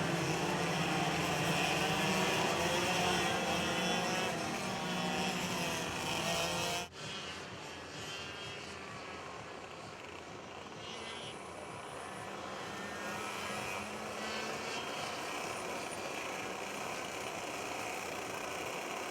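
Pack of 33 X30 racing karts idling and revving as they form up for the formation lap at a Southeast Asian kart race, a steady loud engine drone that dips briefly before resuming.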